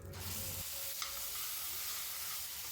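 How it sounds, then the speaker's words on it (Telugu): Ground chutney paste fries in oil with curry-leaf tempering, a quiet, even hiss of sizzling with a faint stirring scrape, heard close and alone. "తర్వాత ఇందులో మిక్సీ పట్టిన పేస్ట్ను కూడా వేసి వేయించాలి."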